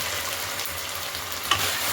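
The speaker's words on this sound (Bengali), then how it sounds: "ভালো করে পেঁয়াজটাকে ভাজা ভাজা করে আর আদা রসুনটা ভাজা ভাজা করে নিতে হবে" Onion, ginger and garlic frying in a pan, a steady crackling sizzle with a brief sharper clink of stirring near the end.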